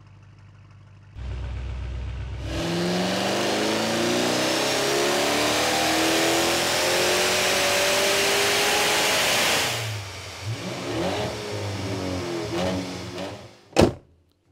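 A stage 2 tuned car on a dynamometer idles, then holds a long, loud, rising engine roar through the gears, drops back to lower revs with a few blips, and ends with a sharp bang.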